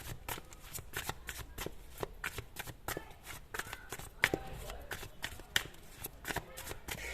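Tarot cards are shuffled by hand in quick, repeated riffles and soft slaps, close and crisp, with a few sharper clicks during a horoscope card reading.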